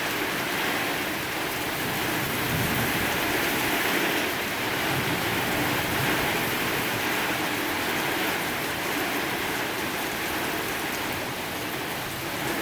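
Heavy rain pours steadily and loudly throughout a severe thunderstorm with strong winds, a dense unbroken roar close by with no distinct thunderclap standing out.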